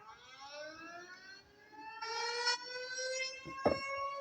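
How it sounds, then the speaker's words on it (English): Tornado emergency sirens wail with a steady, sweeping harmonic tone that swells louder partway through, joined near the end by a couple of sharp low bursts. "Activate the sirens."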